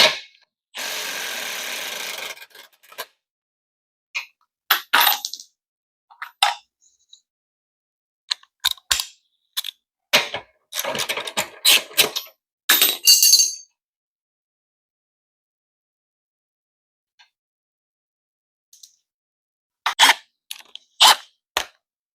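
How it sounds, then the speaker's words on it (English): Metallic clinks, scrapes and short rattling bursts as the axle is pulled from a Coleman BT200X minibike with a Predator 212cc engine and 60-tooth sprocket, coming in scattered close-up clusters separated by quiet gaps. "Let's go ahead and pull this axle out now."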